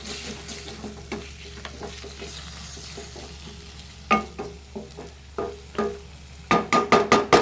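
Mangalore ghee prawn roast being stirred in a pan, with a soft sizzle underneath and scraping strokes that start out sparse and grow into quick, firm rhythmic bursts toward the end.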